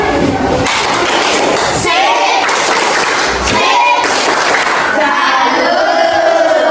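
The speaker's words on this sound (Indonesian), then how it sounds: "Yuk, kita beri tepuk salut dulu." An elementary school class performs a rhythmic 'tepuk salut' clap, children's voices chanting along with bursts of hand claps and thumps, filling the room loudly.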